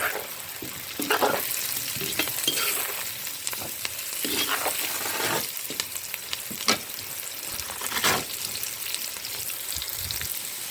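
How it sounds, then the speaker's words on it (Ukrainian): Mushrooms fry in a kazan with onion and carrot for chanakhi, a constant close sizzle with bursts of louder crackling as the pieces are stirred. "І зараз додаємо грибочки і обсмажуємо."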